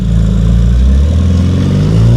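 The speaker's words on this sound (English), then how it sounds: "There we go, obviously revving up the V8" An Aston Martin Valhalla's V8 engine revs loud and close, a steady deep roar with rising and falling pitch sweeps over the full couple of seconds, no voices.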